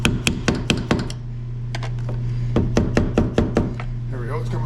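A rapid series of close, sharp hammer strikes on a tight, stuck upper radiator hose of a 6.4 Powerstroke diesel, then a pause and another burst of blows, followed by a brief voice at the end.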